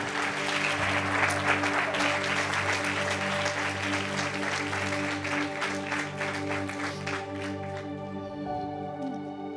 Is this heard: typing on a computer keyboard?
no